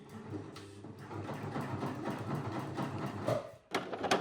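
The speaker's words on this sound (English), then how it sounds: "this is a brand new sewing machine" A brand new sewing machine runs steadily with a whirring, rattling drone close by, stitching through two layers of canvas, then stops briefly before starting up again.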